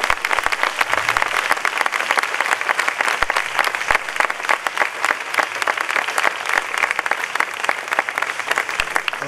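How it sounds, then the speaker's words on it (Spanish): Audience applause at a flamenco guitar contest final in tribute to Paco de Lucía, sustained, even clapping from a large crowd, close and lively with crisp individual claps throughout. "Y valga este aplauso."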